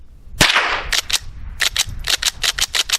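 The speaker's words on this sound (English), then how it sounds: "So I'm just going to hold the trigger back and pump it and see what happens." A Rossi Gallery .22 pump rifle has its action worked repeatedly with the trigger held back but does not fire, producing a quick series of sharp, close metallic clacks in a fairly even rhythm with no voice.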